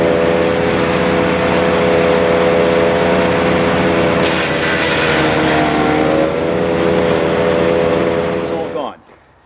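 Close and loud, the engine of a WoodMaxx DC 1260 wood chipper with slipping belts runs at a steady drone with a rising whine, then cuts out and falls quiet near the end.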